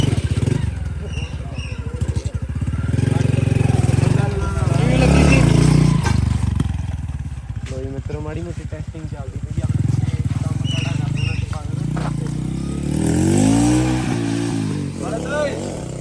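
A 125 cc Bajaj Pulsar and a 100 cc Hero Splendor motorcycle, set up for a tug-of-war contest, rev their engines in loud, surging bursts close by, with people talking over and between the revs.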